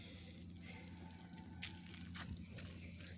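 Water soaks into loose garden soil mixed with sand and ash, a soft steady trickle and patter running continuously at close range with no voices.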